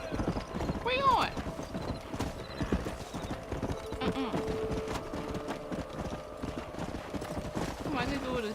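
Horses in the video game Red Dead Redemption clop along with steady, quick hoofbeats, and a short whinny rings out near the start; someone talks over the hooves.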